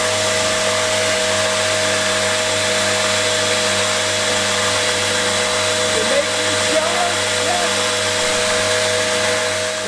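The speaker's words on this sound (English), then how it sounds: "when sharpening a knife, you really want to get this fine burr in front of it, and with each grit you grind it down from the other side" A bushcraft knife blade is ground and sharpened on a power grinder, a loud, steady motorized whine with a faint scraping edge that runs unbroken throughout.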